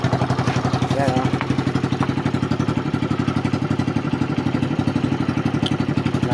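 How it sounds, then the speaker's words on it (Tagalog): A lowered motorcycle fitted with a homemade stainless steel muffler idles with a steady, rapid putter, loud and close, a constant pulsing exhaust beat throughout. "testing natin ulit yung DIY ko na muffler"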